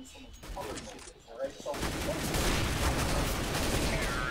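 Gunfire in Counter-Strike: Global Offensive on the Dust 2 map, a dense burst of shots that starts partway through and stays loud and sustained, with brief talk and quieter game noise before it.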